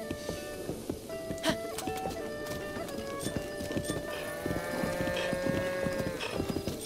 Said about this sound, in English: Hello there, that's a mighty fine horse you have.